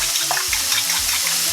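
Eggs with a little salt being beaten by hand in a bowl for a Ugandan rolex, quick rhythmic whisking strokes clicking repeatedly and close up.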